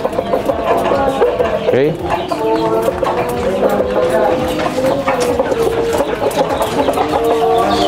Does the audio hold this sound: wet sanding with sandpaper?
no